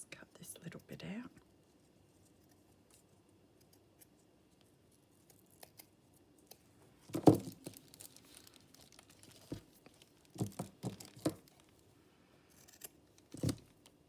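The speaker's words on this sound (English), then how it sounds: "Just cut this little bit out." Scissors cutting pianola paper for a bird-themed journal, heard as a few sharp, close snips scattered through a very quiet room, along with light paper rustling and soft whispering.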